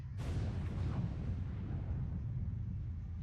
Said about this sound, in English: An explosion sounded nearby.